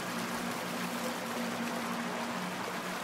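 In the video game Outlast 2, a raft is rowed slowly across water. A steady, continuous wash of flowing water plays at moderate level, with no distinct paddle strokes standing out.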